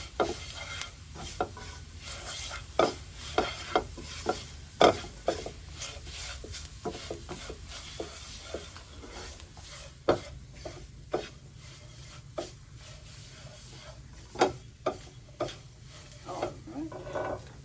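A utensil scrapes and stirs duck curry in a pan over low heat, irregular soft scraping strokes with brief knocks against the pan, close and fairly quiet, with faint sizzling underneath.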